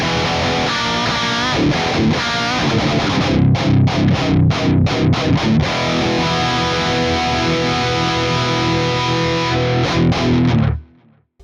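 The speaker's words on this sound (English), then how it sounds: "I'll just show a quick high gain example with these pickups and just how quiet they really are" Electric guitar with P90 pickups through a high gain Quad Cortex patch, loud distorted chords and chugging riffs with palm-muted stabs, then a clean cutoff into near silence.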